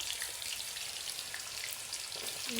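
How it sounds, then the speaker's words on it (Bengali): Hog plums (amra) dropped into hot oil for pickle, giving a steady, close, dense sizzle and crackle throughout with no talking. "তারপরে আমড়াগুলো তেলে ছেড়ে দিচ্ছি"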